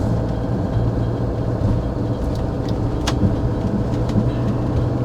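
A motorhome drives fast along the Mount Panorama straight, its steady loud road and engine roar filling the cabin with constant rumble, no talking over it.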